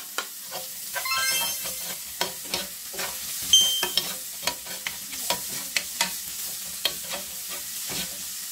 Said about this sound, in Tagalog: Next is lagay na natin ang sibuyas.